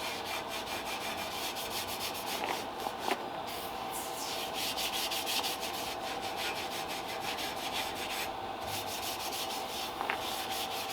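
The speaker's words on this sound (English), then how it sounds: "I get to clean these little scavenger pipes that have a little bit of rust on them." Scrubbing by hand at old chrome scavenger pipes with light rust from a 1934 Ford Tudor hot rod, a steady rough rubbing texture repeated close up for the whole stretch, with no talking.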